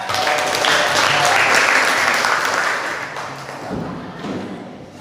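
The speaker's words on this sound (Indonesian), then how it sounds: "Kita beri tepuk tangan dulu untuk semuanya." Students in a school chemistry classroom clap together, a fairly loud burst of applause that swells early, then tapers off over a few seconds with a few scattered thumps near the end.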